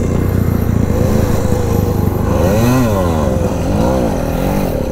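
A low-cc motorcycle engine revs steadily and loudly up close during wheelie practice, its raspy drone rising and falling in pitch through a couple of throttle swells.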